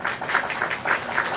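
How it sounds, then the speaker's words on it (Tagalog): A small group of people gives brief, close applause to congratulate a student on earning highest honors. The clapping comes in quick rhythmic bursts, with no speech over it. "Hindi naman kailangan pumalakpak."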